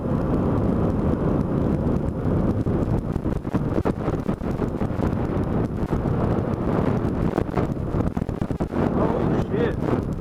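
Heavy wind buffets the microphone on a Yamaha FZ-07 motorcycle at about 60, a loud, continuous roaring rush over the low drone of the ride.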